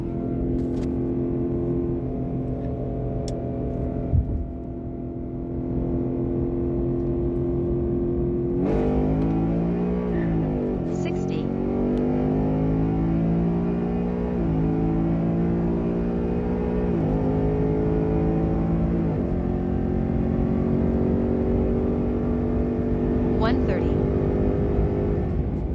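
A 2024 Ford Mustang Dark Horse launching down a drag strip, its loud engine droning steadily then climbing in pitch through repeated upshifts, heard close and continuous for the whole run.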